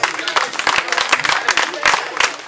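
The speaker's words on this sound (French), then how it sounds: "Vos enfants vous remercient et vous applaudissent." Audience at a seminary tribute ceremony in Benin applauds a former teacher, a lively patter of clapping over which a voice speaks.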